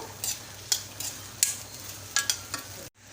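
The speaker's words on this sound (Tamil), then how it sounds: "இன்னும் ஒரு ரெண்டு மூணு நிமிஷத்துக்கு தக்காளி வெங்காயம் எல்லாமே வதங்கட்டும்" Tomatoes and onions sautéing in a pan, a faint low sizzle broken by several sharp spoon-against-pan stirring clicks at irregular intervals before a sudden cut to silence.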